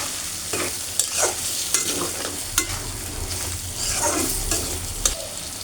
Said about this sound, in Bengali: এখন এটা আমি আবার একটু ভালো করে কষিয়ে নেব